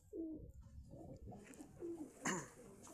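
A large champion pigeon coos close by, several low throaty coos in a short run with soft fluttery noises between.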